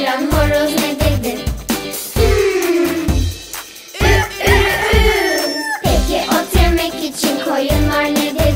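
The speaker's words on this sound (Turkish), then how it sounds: "Sabah bizi uyandıran horoz ne dedi?" A rooster crow in a Turkish children's nursery song, repeated crowing calls over bright music and sung voices that go on throughout.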